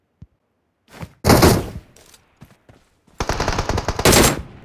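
Bursts of automatic gunfire in a battle royale video game, two long loud volleys of rapid shots separated by a few scattered single shots and short pauses, close and dominant with no talk.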